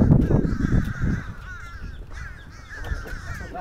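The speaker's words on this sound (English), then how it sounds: "It's the crow." Crows caw repeatedly outdoors, harsh calls clustered in a loud burst at first, then more spaced-out cawing at moderate distance over low rustling and wind.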